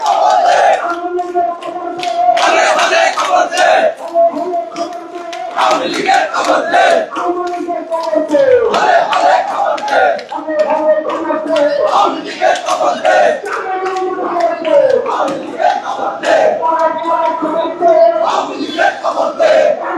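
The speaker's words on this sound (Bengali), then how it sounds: "আপনারা দেখতে পাচ্ছেন বিভিন্ন স্লোগান দিচ্ছেন যারা ইনকিলাব মঞ্চের যারা রয়েছেন" A large crowd of student protesters from Inquilab Mancha marches around Dhaka University after Friday prayers, chanting loud rhythmic slogans demanding a ban on the Awami League, with a leader's calls answered by massed voices throughout.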